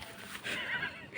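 A horse whinnies loudly and close by in one drawn-out, wavering neigh that lasts about a second, with no voices over it.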